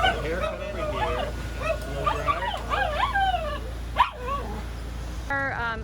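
A small dog being groomed and given a haircut outdoors at a mobile grooming service yips, whines and barks repeatedly, loud and close, with voices talking nearby.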